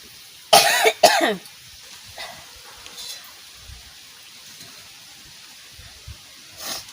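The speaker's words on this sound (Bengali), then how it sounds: "শুকনো লঙ্কা তেলে পরে দিলেই কাশি হয়" Two sharp coughs burst out close together near the start, caused by fumes from dried chilies frying in oil, followed by quiet rustling and a softer throat sound near the end.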